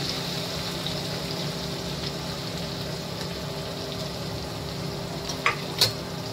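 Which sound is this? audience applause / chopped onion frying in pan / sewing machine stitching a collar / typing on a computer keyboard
chopped onion frying in pan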